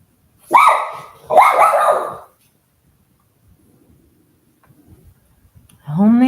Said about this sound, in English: my dog can be so disruptive during the stream